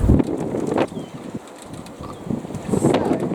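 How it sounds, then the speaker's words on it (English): Wind gusts across an outdoor kitchen garden, buffeting the microphone in loud rushes that ease briefly in the middle before picking up again. "Oh, here comes the wind."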